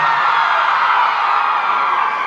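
Live concert crowd at the Hammersmith Apollo cheering and whooping in a loud, sustained roar that holds steady without a break, dense massed voices filling the hall.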